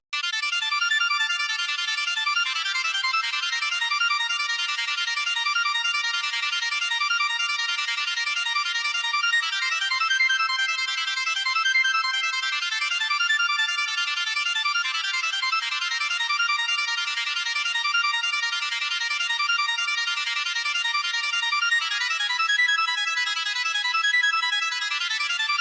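A synthesized hardstyle melody plays back as a bright, thin, high-pitched lead with no bass, repeating a steady rhythmic pattern at even volume for about twenty-five seconds.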